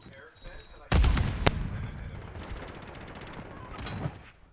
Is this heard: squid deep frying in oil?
no